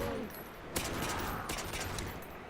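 Gunshots in Garry's Mod during a fight against the Flood, a few sharp shots spaced under a second apart over constant game noise, with someone speaking faintly.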